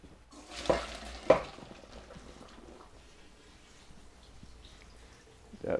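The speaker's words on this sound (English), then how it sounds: "Now we're going to turn that off and drain the potatoes." Hot boiled potatoes being drained into a colander, with two sharp splashing bursts followed by a soft lingering drip and hiss of steam, close and fairly quiet.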